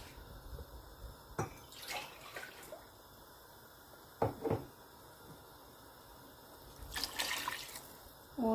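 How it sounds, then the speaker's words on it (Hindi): Two cups of water are poured into a chicken and chickpea curry (murgh cholay) in a few short splashing bursts, close and fairly quiet, without speech. "ये 2 कप पानी के शामिल करूँगी"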